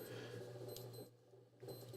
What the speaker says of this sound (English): let's get rid of that alarm